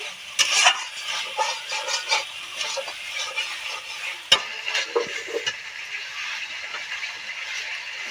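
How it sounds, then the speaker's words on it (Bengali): Paneer curry is sautéed in a pan, with a bright, steady sizzle under repeated scraping and clacking stirring strokes that come close and fairly loud, plus one sharp knock partway through. "এবার ভালো করে কষিয়ে নিচ্ছি"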